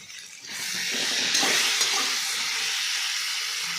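Vegetables with tomato sizzling and frying in a pan, a steady broad hiss that swells after the first half second and holds loud and close, with faint stirring scrapes and no talk.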